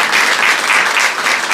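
Loud, dense applause from an audience at an Urdu poetry mushaira at the Pakistan High Commission in London, a short continuous burst of clapping with no talk over it.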